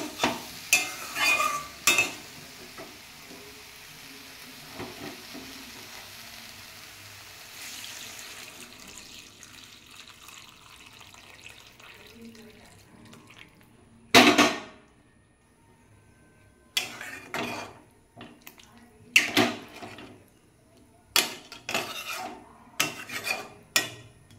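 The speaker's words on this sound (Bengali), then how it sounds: "এবার আমি জল ঢেলে দেবো। জলটা গরম করে নিয়েছি।" Hot water pours into a pot of sautéed vegetable curry, a hissing rush over the first several seconds, followed by loud intermittent clanks and scrapes of utensils against the pot.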